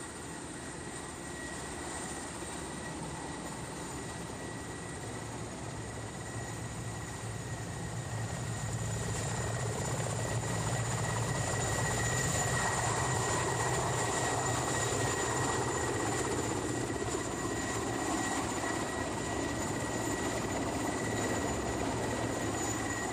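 Continuous whirring drone of a rescue helicopter flying overhead, growing louder partway through and holding steady with a broad rushing wash.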